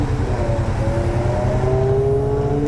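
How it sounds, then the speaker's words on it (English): A BMW car, taken for a 6 Series, accelerates past on the road, its engine note climbing smoothly and loudly for a few seconds. "It's a nice sounding Beamer."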